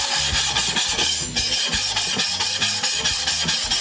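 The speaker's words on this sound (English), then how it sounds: "Now we'll run the 220 grit on it just to get it polished up and cleaned up a little bit better." Someone hand-sands an engine valve from a Briggs engine with 220 grit sandpaper, making steady rhythmic scratchy rubbing strokes, close and continuous, with no talk.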